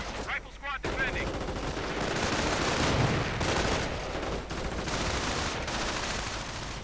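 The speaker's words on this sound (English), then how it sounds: "Booby traps going off" Booby traps going off in a war strategy video game: a dense crackle of gunfire and bursts that rises and falls over several seconds, with brief sharp accents in the first second.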